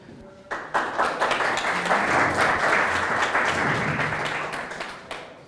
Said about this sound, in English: Applaud him.